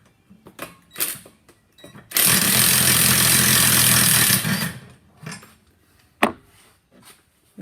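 A Ryobi impact wrench hammers on the drive shaft bolts of a 2014 Ford Edge, one loud sustained burst of about two seconds, with scattered clanks of tools before and after.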